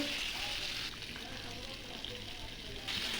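Cubed potato and papaya fry in hot oil with bay leaf, whole cumin and whole garam masala, making a soft, steady hiss that stays low and even for a few seconds, faintly dipping midway.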